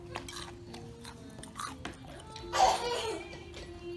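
Close, crisp crunching of fried chicken gizzards being chewed, a few soft bites with a louder crunchy burst near the end, faint household background.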